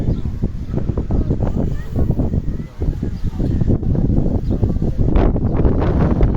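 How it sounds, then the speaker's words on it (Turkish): Strong wind roars and buffets the microphone steadily during a hillside wildfire in Bergama, Turkey, with gusty rumbling and rustling throughout and a brief dip partway. "Rüzgar ne kadar üfürüyor görüyorsunuz."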